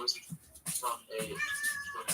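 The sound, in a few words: cat meowing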